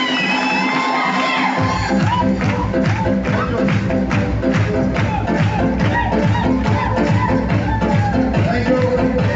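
A large hall audience cheers and claps loudly to music at an event, thick continuous applause with shouts and whoops over a pounding beat, crowd noise filling the space throughout.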